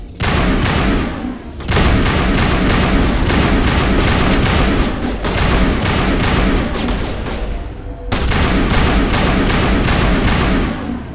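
Sustained barrage of gunfire from a firefight in Mass Effect on Noveria, loud and dense with heavy booming thuds, briefly dipping near two and eight seconds before resuming; no talking.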